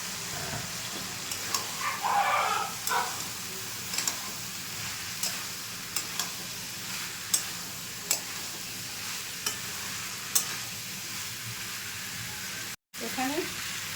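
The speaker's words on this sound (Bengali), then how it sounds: "এবার ছোলাটা দিয়ে দিচ্ছি।" Boiled chickpeas tipped into a pan of frying masala for a kabuli chana curry and stirred, a soft steady sizzle with occasional scraping and tapping of the spoon, fairly quiet throughout.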